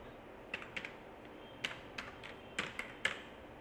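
Keys tap on a computer keyboard while C code is typed, giving a quiet, irregular run of close, crisp clicks with short pauses between them.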